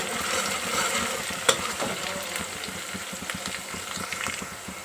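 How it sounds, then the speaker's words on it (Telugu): Curry leaf sprigs with stems frying in oil for mutton curry, a low continuous crackle and sizzle with light stirring knocks and one sharp tap, moderately quiet. "కరివేపాకు ఒక 4 రెమ్మలు అట్లే కాడలతో సహా వేసుకుందాం."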